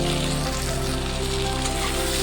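Chopped vegetables fry in a pan with salt and turmeric for a Bengali tengra fish curry, a loud steady sizzle with no break.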